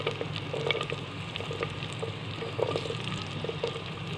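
Tinda (ridge gourd) frying with green chillies in a pan, a steady close sizzle with occasional stirring clinks and no talk.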